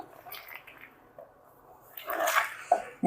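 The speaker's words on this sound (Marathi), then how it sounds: "आता चांगलं ह्याला ना असं कुस्करून घ्यायचं हाताने एक दोन मिनटं" Salted bitter gourd squeezed and crushed by hand in a bowl to press out its water, quiet at first, then wet squishing and squelching bursts with a couple of sharper squelches near the end.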